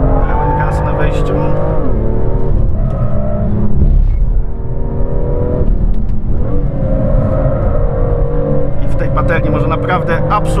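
A BMW M2 engine at full throttle on a race track roars loud and close, its pitch climbing, dipping with quick gear changes and revving hard again throughout.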